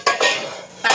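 A metal lid clatters onto a pan of simmering zhunka, the gram-flour dish made from chana dal. Two quick close clinks are followed by a short ringing rattle as it settles.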